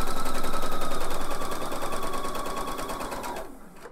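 Sewing machine stitching in a rapid, even mechanical rhythm, loud and close, slowing and stopping near the end.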